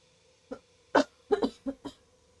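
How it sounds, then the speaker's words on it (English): A short series of dry coughs, about five in quick succession, close to the microphone with quiet pauses between them. "Excuse me. I'm gonna have to cough."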